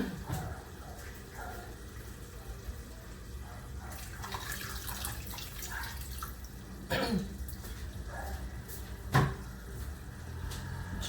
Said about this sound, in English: We're going to be adding just a half a cup of water to this right now.